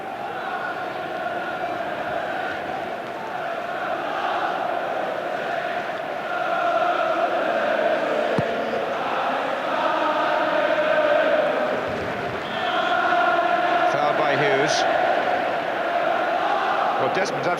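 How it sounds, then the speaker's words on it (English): Spectators fill a football stadium during the second half of a 1994 FA Cup semi-final between Manchester United and Oldham, a steady broad roar of crowd noise with occasional swells and distant chants, running continuously under match commentary. "The crowd, at least, are rather more animated in this second half"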